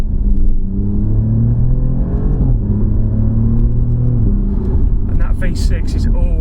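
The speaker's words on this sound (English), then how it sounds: "we'll start with the exhaust note." Alfa Romeo Giulia Quadrifoglio with a V6 engine, its exhaust giving a loud, close, deep rumble whose pitch rises and dips as the engine is revved, with a voice coming in near the end.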